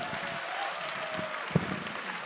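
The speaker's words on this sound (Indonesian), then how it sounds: "tepuk tangan sekali lagi loh untuk Andre" An audience at a stand-up comedy competition in a hall claps for a comedian, a steady patter of applause with one sharper clap standing out near the middle.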